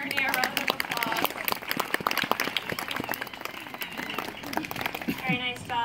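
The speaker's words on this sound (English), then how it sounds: "Why don't we give both Amber and Ernie a round of applause?" An audience claps at a zoo bird show, scattered applause with loud bird squawks breaking through near the start and end.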